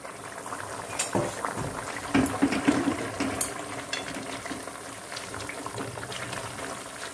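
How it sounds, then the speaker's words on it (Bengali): Fish curry broth boiling in a covered pot on a kitchen stove, soft steady bubbling and simmering with a few light clinks of the lid, faint and close with no talk. "ঝোলটা ফুটে গেছে"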